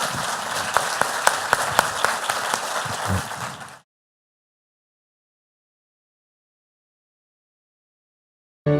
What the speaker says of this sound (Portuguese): peço uma salva de palmas, então, para a sessão